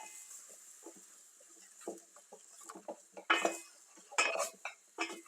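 A spoon scrapes and knocks against a pot while roasted potatoes and carrots are stirred with flour, giving irregular clattering bursts over a quiet kitchen background.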